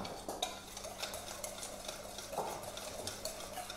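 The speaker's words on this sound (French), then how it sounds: "Je remue, je fouette." Socca batter being whisked in a bowl, a steady run of light scraping, clinking strokes close by with no voices.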